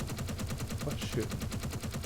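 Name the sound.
gunfire from a weapon in Space Engineers video game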